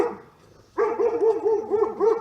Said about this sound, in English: That's why the dog's barking.